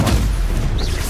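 Stupefy spell cast in the Hogwarts Legacy video game: a single loud booming blast with a short rising magical whoosh near the end, steady and full throughout.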